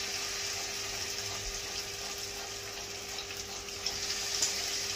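Mixed vegetable pakoras fry in very hot oil over a low flame, giving a steady, fairly quiet hiss and crackle throughout with small pops near the end and no talking.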